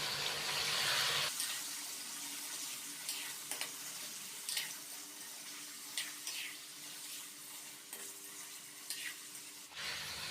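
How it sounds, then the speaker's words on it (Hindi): Chicken pieces stirred in hot oil in a karahi, a steady close sizzle with intermittent scrapes and clinks of a utensil against the metal pan, no talking. "चिकन को हल्का सा मिक्स करेंगे"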